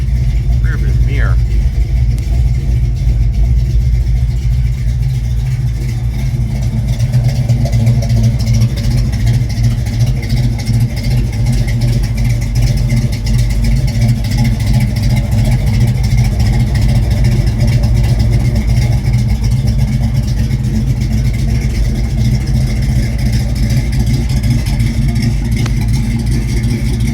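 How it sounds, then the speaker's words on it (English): A 1951 GMC five-window pickup with a 350 crate roller motor and lumpy cam idles steadily nearby, a low rumbling loping note, with someone talking over it throughout. "Motor's a roller motor too. Got a nice cam in it. Real lumpy."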